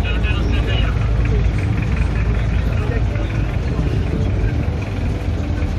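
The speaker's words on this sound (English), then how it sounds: "This is the Saba Saba bus terminal here in Dodoma." Engine rumble and traffic noise at the Saba Saba bus terminal in Dodoma, Tanzania, a dense, steady, loud drone of idling and moving buses, with people talking over it.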